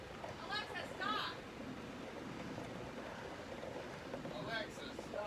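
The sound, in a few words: strong wind during a severe thunderstorm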